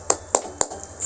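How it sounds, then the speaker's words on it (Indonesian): A single adult demonstrates the tepuk semangat spirit clap for children, three sharp, evenly spaced claps and a fainter fourth, close and bright, over a low hum. "kita tepuk semangat dulu yuk"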